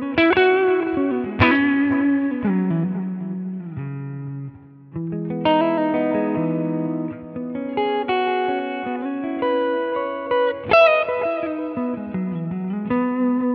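Clean electric guitar through a Line 6 Helix US Princess amp model with delay, notes and chords ringing out with echoing repeats that trail behind each phrase, giving a wide, lush sustained sound.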